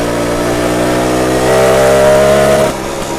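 A 1967 BSA Bantam D10 175 two-stroke motorcycle engine revs up loud and close, its buzzing note climbing and holding before dropping off abruptly near the end.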